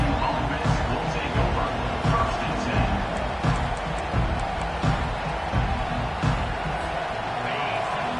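Steady crowd roar fills a stadium in a football video game, with bursts of cheering rising and falling throughout and a commentator's voice talking over it.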